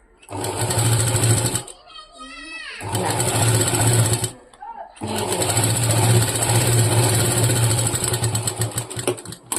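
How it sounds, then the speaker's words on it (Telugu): Sewing machine stitching folded cloth from the inside, running in long loud bursts with two short pauses between them. "ఇక్కడ లోపల నుంచి దీన్ని ఇలా స్టిచ్ చేసుకోవాలి"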